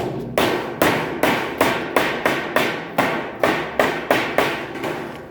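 Steady, loud hammer blows strike at a regular rhythm, about fourteen in a row, each a sharp bang with a short ringing decay, close by.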